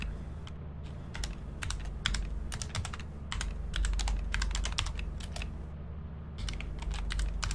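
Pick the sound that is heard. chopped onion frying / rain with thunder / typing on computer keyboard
typing on computer keyboard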